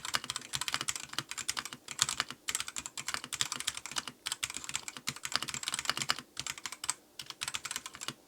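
Rapid, uneven typing on a Redragon Pro mechanical keyboard connected over Bluetooth to an iPad, the close clacky keystrokes coming in dense bursts with brief pauses and no talking.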